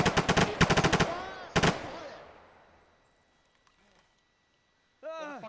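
Rapid automatic gunfire in the military shooter game Arma 3, loud close bursts in the first two seconds, then a fading echoing tail into near silence, with a voice briefly at the end.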